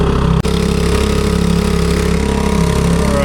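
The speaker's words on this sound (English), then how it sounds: "my engine not performing as how it should perform" A fishing boat's outboard engine running rough out on a bay, a loud steady mechanical drone with a brief dropout near the start, then continuing unevenly without any talk.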